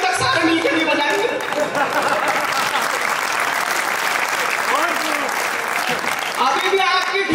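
Sustained applause from an audience at a Hindi kavi sammelan poetry gathering organised by a journalists' council in Paota, dense and steady throughout with crowd chatter mixed in.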